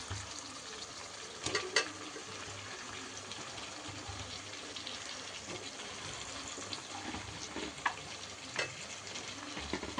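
Chicken curry base with tomato fries in a pan, a faint, steady low sizzle throughout with occasional soft clinks of a stirring spoon; no voices.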